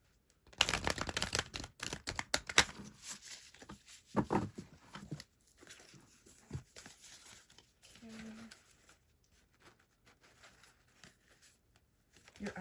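Astrology cards are shuffled by hand in a series of quick papery riffles and flicks, close and soft, with scattered handling noises afterward.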